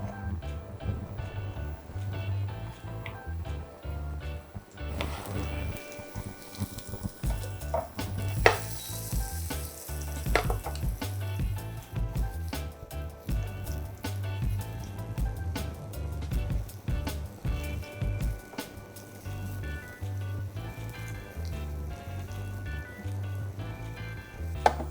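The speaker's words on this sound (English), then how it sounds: "we're gonna toast this breadfruit in the same pan" Breadfruit toasting in a hot pan, a steady close sizzle and frying crackle with occasional stirring scrapes, continuous throughout without talk.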